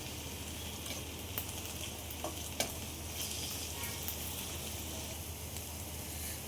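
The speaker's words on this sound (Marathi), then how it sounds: "कांदा आणि टोमॅटोमध्ये मसाले पण छान परतून घ्यायचे" Spices sautéing with onion and tomato for a prawn biryani, giving a continuous soft sizzle with occasional light clicks of a spoon stirring in the pan, steady and moderately quiet throughout.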